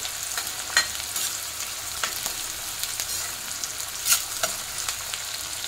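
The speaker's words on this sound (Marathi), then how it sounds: "त्याच्यानंतर आपण हा बारीक चिरलेला कांदा हा टाकूया। चांगला ब्राऊन कलरचा होऊन द्यायचा।" Finely chopped onion fries in a pan until brown, a steady soft sizzle with occasional louder crackles and stirring scrapes, heard alone without talk.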